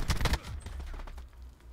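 Rapid bursts from the Echohawk Dual Bore gun in a Call of Duty game by Treyarch, a quick volley of loud, close shots followed by a decaying echoing tail.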